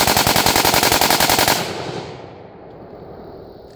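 An AK-47 fed from a Chinese drum magazine fires full auto: a loud, rapid, evenly spaced burst of shots for about a second and a half, then the echo dies away with no voices.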